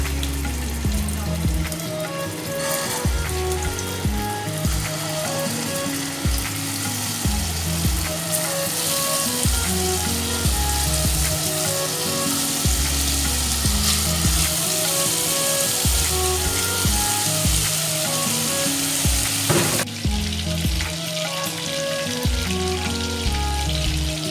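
Ground beef kofta balls fry gently in a pan over a medium flame, a constant soft sizzle that lasts throughout. Melodic background music plays over the sizzle.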